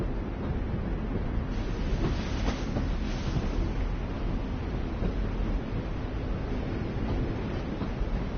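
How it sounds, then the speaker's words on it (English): Train rolling along rails in The Walking Dead video game, a steady low rumble with faint rhythmic clatter running continuously with no voices. "Why the train? You always pick the train."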